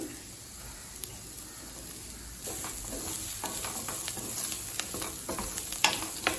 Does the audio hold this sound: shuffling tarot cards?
no